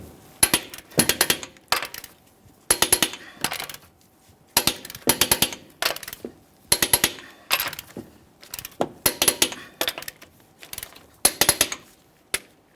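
An impact or torque wrench tightening wheel lug nuts on a 2015-2020 Ford F-150 in a crisscross pattern, giving repeated rapid clicking ratchet bursts in regular groups, close and fairly loud, with no talk.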